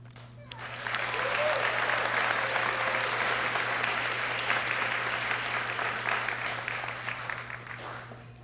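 Sustained applause from the audience at a nursing pinning ceremony for graduating RN nurses, dense steady clapping rising quickly and holding throughout, with a low steady hum underneath.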